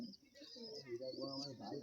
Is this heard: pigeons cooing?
yes